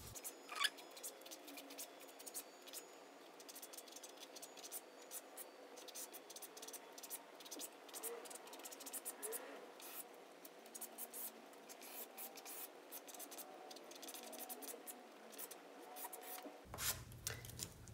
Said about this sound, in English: I'm just going to do a sketch of this particular plant with the compressed charcoal material